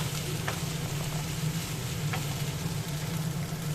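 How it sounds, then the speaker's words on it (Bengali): Chopped onion and minced chicken fry together in a pan for a singara filling, a soft, steady sizzle with a couple of faint scrapes and no voices. "এখন এবার পেঁয়াজ আর কিমা একসাথে একটু ভাজা ভাজা করে নিতে হবে।"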